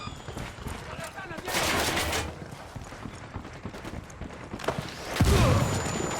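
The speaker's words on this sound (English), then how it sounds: "I'm shooting these fuckers" Gunfire in Tom Clancy's Ghost Recon Wildlands, bursts of rapid shots and a heavier blast near the end, mixed with shouting voices and battle noise in a busy firefight.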